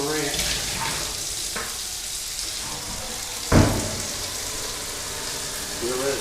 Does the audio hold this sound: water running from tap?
yes